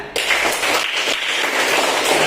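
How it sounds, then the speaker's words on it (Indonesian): Children in a classroom clap together in a sustained burst of dense, fairly loud applause that starts abruptly and continues steadily. "Tepuk tangan semuanya."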